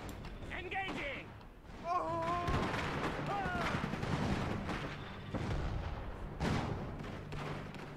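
Gunfire and artillery blasts in the World War battle game Iron Harvest: repeated thuds, bursts and booms over several seconds, mixed with game effects, while a player talks over the fighting.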